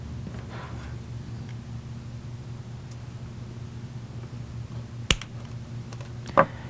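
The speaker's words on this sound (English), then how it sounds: "And now I will snip that." Two sharp snips of wire cutters cutting metal wire at a metalsmithing bench, a crisp click followed by another about a second later, over a low steady hum.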